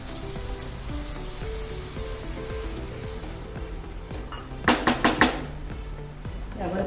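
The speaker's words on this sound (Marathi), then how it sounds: "आता यामध्ये आपण पाणी घालायचंय आणि चांगली 1 उकळी आणायची" Cashews and tomatoes in water coming to a boil in a pan, cooking down for a malai kofta gravy. A steady low hiss and bubbling carry throughout, with a short cluster of louder popping bursts near the end.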